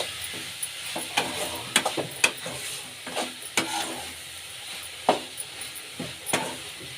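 Spoon scraping and stirring masala with coriander leaves in a pan over a soft sizzle, irregular clinks and scrapes at close range, for a cucumber rice dish.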